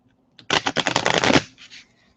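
A double-sided tarot card deck being shuffled close up, in a loud rapid riffle of card flicks lasting about a second, followed by a softer brief settling of the cards.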